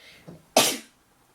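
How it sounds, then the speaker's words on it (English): A single sharp sneeze bursts out after a soft intake of breath, loud and close, followed by quiet. "Need to sneeze."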